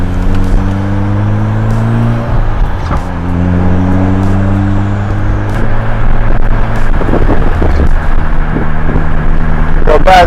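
Mitsubishi Lancer Evolution driving with a manual gearbox, loud steady engine drone that rises in pitch through each gear, then drops sharply at several shifts, with road noise throughout and no clear talking.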